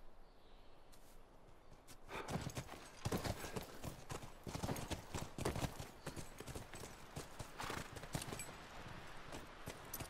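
Horse hooves clip-clop in the video game The Last of Us, a fast and steady run of hoofbeats that starts after a quiet second and keeps going, with a snort or whinny now and then.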